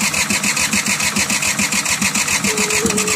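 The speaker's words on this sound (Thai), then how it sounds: "จะมาลองสตาร์ทดูครั้งแรกว่าจะติดไหมนะครับ" Road roller engine started for the first time after assembly, a loud close mechanical chugging with a fast even pulse that keeps running steadily, as if cranking or just catching.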